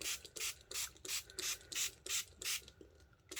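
A series of short hissing spray bursts of craft ink in a steady rhythm, roughly three per second, close to the microphone with no talking.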